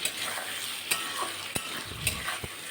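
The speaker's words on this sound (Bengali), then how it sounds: "নুন দিয়ে আবার একটু ভালো করে নাড়াচাড়া করে নেব।" Rui fish curry with salt being stirred in a pan, a steady low simmering hiss broken by a few sharp scraping strokes of a spatula, close and moderately quiet with no voices.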